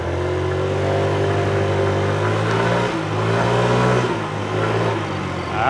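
A 49cc scooter engine hums and buzzes steadily while being ridden, its pitch rising and falling slightly with the throttle, close and continuous with no talking.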